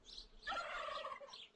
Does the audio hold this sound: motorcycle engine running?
no